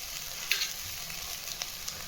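Capsicum, green chillies and grated carrot fry in a pan for street-style egg fried rice: a steady, fairly soft sizzle with a few sharp crackles and pops, no voices.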